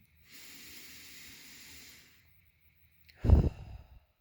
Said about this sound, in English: We're going to take one last deep breath together.